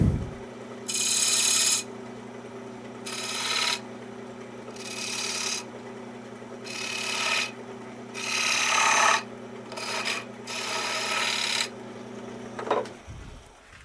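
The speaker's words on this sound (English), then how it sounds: "I will be using my spindle gouge. I will just create some grooves right there." A spindle gouge cuts grooves into wood in about seven separate short scraping bursts, each close and hissy, set over a steady low hum with quiet gaps between cuts.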